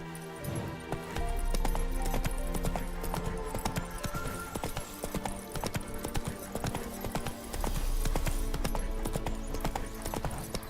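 The horse Roach gallops in The Witcher 3, a steady near clip-clop of hooves with a rolling rhythm that swells louder partway through, over low ambient game sound.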